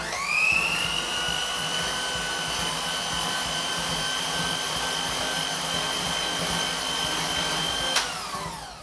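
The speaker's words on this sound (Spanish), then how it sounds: "una vez que echemos el azúcar, como estoy haciendo yo ahora, hay que batir rápidamente" Egg yolks and sugar are beaten rapidly for magdalenas, likely with an electric mixer, giving a steady, loud whirring drone for about eight seconds that stops abruptly near the end.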